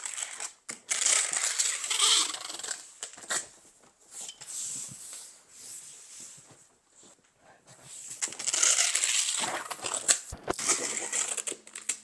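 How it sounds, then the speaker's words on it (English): Packing tape rips and screeches off the roll and is pressed onto a cardboard box, loud crackling bursts close up, with a quieter pause midway and no talking. "So I taped it that way, and now I'm going to tape it this way."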